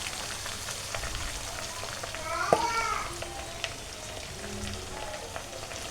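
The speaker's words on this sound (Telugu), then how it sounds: "ఆకు బాగా ఫ్రై అవ్వాలి." Amaranth leaves fry in a pan with a steady, fairly loud sizzle throughout, while a voice and a short whistle-like call rise briefly over the crackle.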